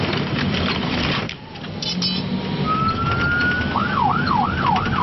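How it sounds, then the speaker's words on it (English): Police convoy sirens on the road in Iraq, loud and close, with a rising wail that then cycles into a rapid up-and-down yelp over engine rumble. "The sirens warn Iraqi drivers to steer clear."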